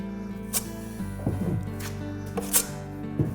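A drywall knife scrapes joint compound while gaps are filled, producing short gritty scraping strokes and light taps close up, repeated several times over a constant low hum.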